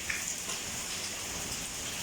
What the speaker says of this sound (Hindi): सख्त तूफ़ानी बारिश हो रही है आज लाहौर में